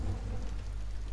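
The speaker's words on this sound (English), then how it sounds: "It's raining out." Steady rain falls outside in the video game Among The Sleep, a continuous soft hiss and patter with a low rumble underneath and no voices.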